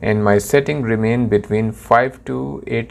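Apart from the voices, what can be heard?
No distinct noise like a dog, phone or traffic.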